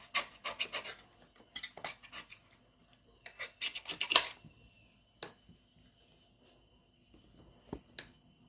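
Knife cutting around the edge of a homemade meat pie made in a sandwich machine, with short bursts of crisp scraping and crackling strokes in quick clusters and a few isolated ticks, close and quiet with no talk.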